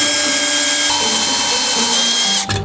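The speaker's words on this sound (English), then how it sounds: "It goes right to the portable bandsaw." A portable bandsaw grinds steadily against a hardened motorcycle lock, a loud, high, sustained metallic whine that cuts off abruptly near the end, with no voices.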